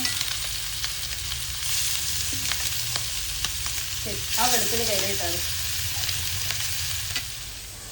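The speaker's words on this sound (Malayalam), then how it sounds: "എൻ്റെ ആ ചട്ടിയിലേക്ക് മീൻ വറുക്കാൻ വെച്ചിരിക്കുകയാണ് ആദ്യം അയില പിന്നെ മത്തി" Mackerel and then sardines fry in a pan with a continuous bright sizzle and some light stirring. A voice speaks briefly over it midway through.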